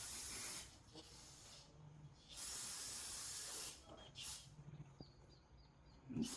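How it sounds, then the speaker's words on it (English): Aerosol brake cleaner hisses in several bursts onto grimy brake parts of a 2007 Subaru Forester XT, each spray lasting a second or so with short pauses between, close and fairly loud. "There's a lot of grime and stuff, so we're gonna spray it a bit."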